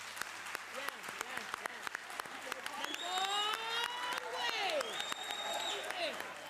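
Audience in a parliament chamber at a women's parliament session breaks into applause, a scattered clapping that swells into a fuller round; birdlike whistles or cheers rise over the clapping in the middle.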